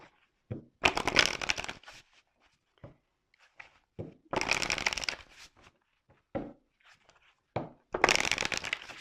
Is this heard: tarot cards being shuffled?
yes